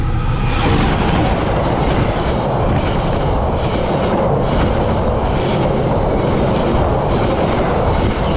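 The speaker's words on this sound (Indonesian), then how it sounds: "Kereta lokal ya sob." A local train passes close by at Cimekar station in Bandung, Indonesia, producing a loud, sustained roar with rattling wheels throughout.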